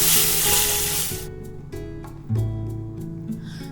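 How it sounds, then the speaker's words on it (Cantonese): Flour-coated chicken breast hits hot oil in a wok, giving a loud sizzle at first that drops away and is followed by several clattering knocks and softer crackling. "跟住將雞胸肉擺落個鑊度先"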